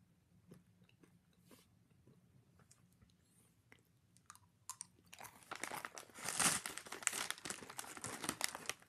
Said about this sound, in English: after 2 minutes of me chewing